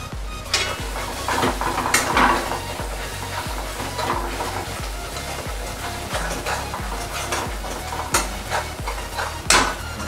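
Chopped green chilies fry in spiced masala oil for a shrimp and pointed gourd curry, a steady sizzle under repeated close scraping and stirring strokes of a spatula against the pan, with occasional sharper metallic knocks.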